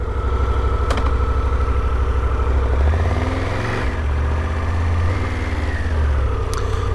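A 2022 Triumph Tiger 1200 GT Pro's T-plane triple engine rumbles loud and close, running steadily with a deep throbbing tone that swells as revs rise and fall while the bike moves off.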